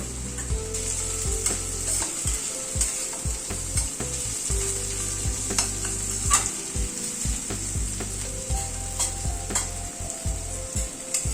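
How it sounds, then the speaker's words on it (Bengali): Chopped green chillies stir-frying with garlic and ginger in hot oil, a steady close sizzle broken by frequent scraping and clinking strokes of a spatula against the pan. "কাঁচা লঙ্কাটাকে দিয়ে আবার একটুখানি নাড়াচাড়া করে নিলাম"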